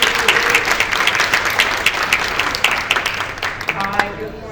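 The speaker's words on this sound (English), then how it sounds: "Can we give her a round of applause?" A room of listeners at a 1 Million Cups business pitch morning breaks into loud, sustained applause, dense clapping that carries for several seconds before thinning out as a voice begins.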